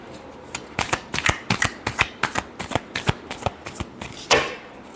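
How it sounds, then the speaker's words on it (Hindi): Tarot cards shuffled by hand, a quick run of crisp riffling slaps and flutters, close up, with no talking over it. "Last shuffle."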